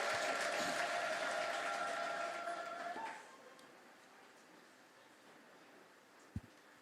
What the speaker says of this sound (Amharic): ለጌታ ክብር እልልታ ጭብጨባ እናመጣለን።